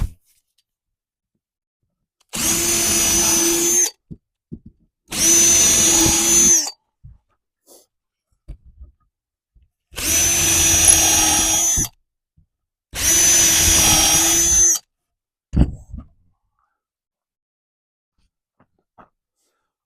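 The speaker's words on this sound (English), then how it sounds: "I do need to go ahead and drill these on through" A power drill bores through wood for a DIY target stand in four separate bursts of about two seconds each, close and loud, with quiet handling clicks in the gaps between them.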